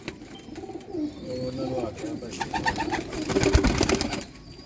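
Sialkoti pigeons on a rooftop in Sialkot coo and flutter close by, a soft run of throaty calls with a brief louder burst near the end.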